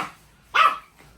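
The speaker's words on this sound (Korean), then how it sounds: "너 그만 짖어." A dog gives a single sharp, loud bark close by. It stands out clearly from the quiet room around it, with only faint sounds before and after.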